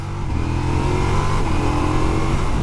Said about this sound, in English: quick shifter blipper is also very nice actually, quite smooth